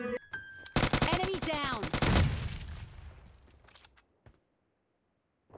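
UMP gunfire in PUBG Lite: a rapid burst of automatic shots, loud and close, running about a second and a half and then trailing off into fading echoes and a couple of faint clicks.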